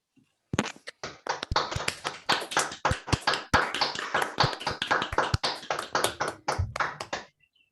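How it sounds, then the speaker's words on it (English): Scattered clapping from a small group of people, likely through unmuted microphones on an online call, a series of sharp, uneven claps that overlap for several seconds, then quickly taper off into silence. "I would like to ask people to unmute and give a round of applause to"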